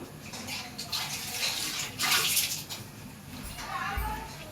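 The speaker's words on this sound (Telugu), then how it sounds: "నేను ఒకసారి వాష్ చేసుకుందాం." Tap water runs steadily in a kitchen as hands are washed while making idli and instant noodles. It is a continuous splashing rush with a few louder bursts.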